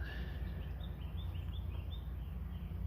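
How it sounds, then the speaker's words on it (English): Faint, very high thin sizzling calls of a kinglet repeat as a short series over a steady low background hum on a cool morning outdoors. "The kinglet's more of a sizzle."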